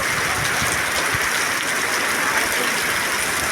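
A heavy downpour at Bagdana in the monsoon, a continuous loud wash of rain on surfaces with close patter and no voices.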